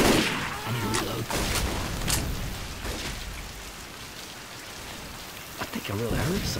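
Steady rain hisses across the whole scene in the zombie shooter Left 4 Dead 2, a dense continuous wash with a few sharper bursts mixed in, and a voice briefly cuts in near the end.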